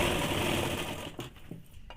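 A sewing machine stitches a half-inch folded hem on men's underwear, running in a steady close whir for about a second before slowing and stopping, followed by faint handling clicks and no speech.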